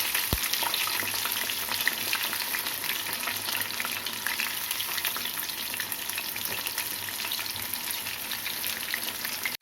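Fish fries in a pan with a steady, close, dense sizzle throughout, occasionally stirred, with no talking.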